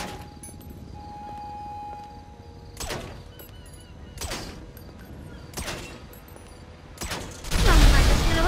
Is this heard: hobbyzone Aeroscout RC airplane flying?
no